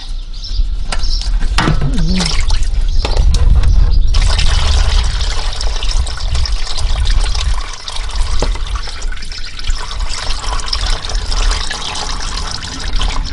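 Transmission fluid from an AU Ford Falcon with no drain plug pours out of the lowered transmission pan into a container, a loud, steady close-up gush and splatter that eases off slightly after several seconds.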